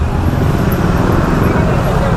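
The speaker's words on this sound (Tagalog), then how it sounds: "tignan mo naman yung traffic oh. Bumper to bumper" Dense, steady roadway noise from bumper-to-bumper traffic in Taytay, with close engine rumble and continuous motor drone throughout, a voice talking over it.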